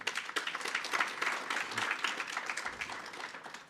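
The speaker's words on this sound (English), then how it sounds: "So it deserves another round of applause." An audience applauds the event hosts at the opening ceremony of a North American talent summit, a dense, steady clatter of many hands clapping throughout at moderate volume, with no talk over it.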